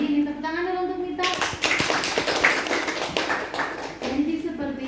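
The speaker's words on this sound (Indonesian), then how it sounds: "ini tepuk tangan dulu untuk Mita" Children clap together for a student named Mita in a classroom, a burst of scattered hand claps starting after a spoken line and running several seconds, with a voice talking at the start and end.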